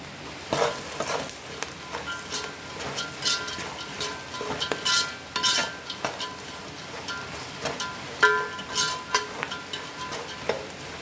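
A handful of curry leaves crackles and sizzles in hot oil, close up, while a utensil stirs with repeated scraping strokes and light metallic clinks against the pan.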